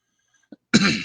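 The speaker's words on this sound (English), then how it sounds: "I really don't want to pass out while coughing." A short, faint catch at first, then one loud, harsh cough up close, rasping on for about half a second.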